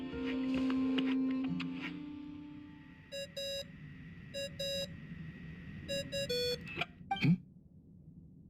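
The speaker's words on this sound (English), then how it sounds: "I really hate that ringing tone." A phone ringtone in the Genshin Impact game, a series of bright electronic beeping bursts repeated in short clusters over background music and ambient tones.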